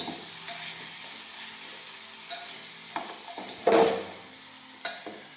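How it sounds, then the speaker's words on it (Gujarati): Garlic sautéing in hot oil for garlic Schezwan chutney, a soft steady sizzle broken by a few spoon scrapes and clinks against the pan, one stronger stir near the end, close and fairly quiet. "હવે આપણે તેમાં લસણ નાખી દઈશું થોડી વાર આ રીતે આપણે સાતવી દઈશું"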